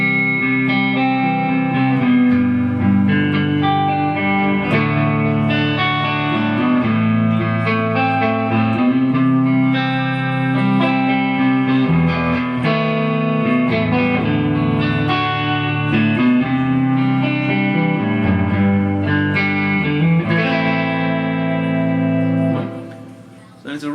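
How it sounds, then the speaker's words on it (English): A Peavey 6505MH guitar amp with its reverb set at about 4.5 carries a sustained, loud electric guitar passage, chords ringing with a wash of reverb tail throughout before a quick fade at the end. "It's a real nice reverb. It adds a lot of dimension to it."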